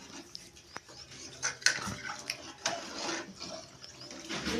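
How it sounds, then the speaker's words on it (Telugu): Water is poured into a pot of cooking mutton in a few uneven splashes and gurgles, close and moderately loud, with small clinks of the vessel in between. "మటన్ కాబట్టి కొంచెం ఎక్కువ వాటర్ వేయాలి. నేనైతే 2 గ్లాసుల వాటర్ వేసానండి."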